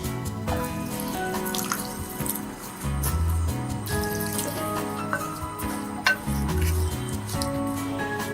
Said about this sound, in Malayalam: നമുക്കിനി ഇതിലേക്ക് കുറച്ച് വെള്ളം ചേർക്കാം.